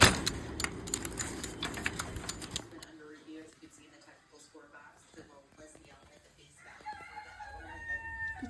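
Backyard chickens settle in their coop at night, with soft clucks and a few brief squawks close by, after a burst of metallic rattling at the start; a person talks quietly.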